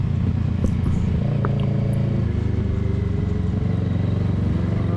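Kawasaki Ninja 650 motorcycle riding at bike night with a group, its engine a loud, steady drone with shifting pitch, along with wind and road noise throughout and other engines nearby.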